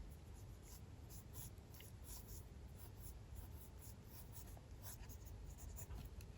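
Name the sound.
pencil sketching faces in a sketchbook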